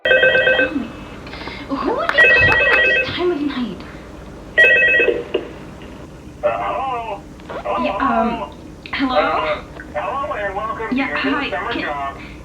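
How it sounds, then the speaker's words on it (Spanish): An electronic telephone ring from Five Nights at Freddy's sounds in repeated bursts, followed by a voice talking as if over a phone line. "se ve sorprendida por el sonido del teléfono"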